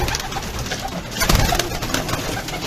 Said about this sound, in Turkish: Bu Japon güvercinleri de arkadaşlar çok narin kuşlar.